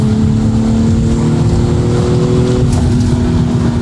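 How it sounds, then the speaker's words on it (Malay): The exhaust of a stock 380 hp BMW M340i G20 in sport mode gives a loud, continuous, deep drone with a slight rise in pitch near the end, and no talking over it. "Saya harap korang boleh dengar bunyi exhaust tu."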